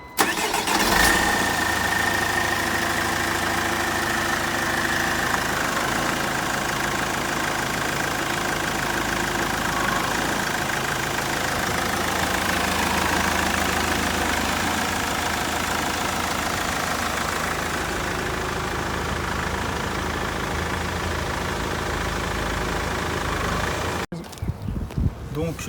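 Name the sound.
car engine starting and idling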